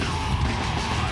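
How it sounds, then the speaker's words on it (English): A harsh mid scream from the singer cuts through loud, dense live band noise during the Woodstock performance, a brief raw vocal burst over distorted instruments. "A little solid little mid scream right there."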